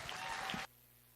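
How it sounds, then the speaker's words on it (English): Applause from a crowd for the kids at a junior livestock show at a county fair and rodeo, a brief burst of clapping that cuts off abruptly. "Let's have a big round of applause for the kids."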